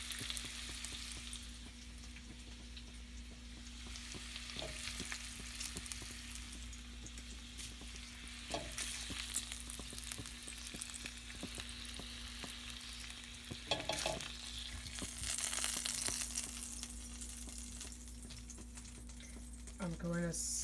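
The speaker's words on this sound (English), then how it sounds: "So you can hear that nice sizzle on the bacon." Strips of bacon sizzle steadily in a frying pan, a continuous crackling hiss with occasional louder pops and stirring scrapes, close and fairly loud throughout, with brief bits of talk.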